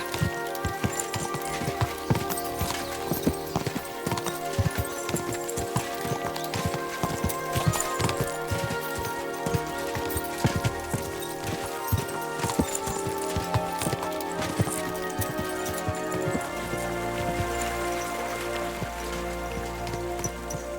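Rapid horse hoofbeats in the video game Kingdom Come: Deliverance 2 clatter continuously at a steady trot, fairly close, with a scattered rain-like patter mixed in; no talking.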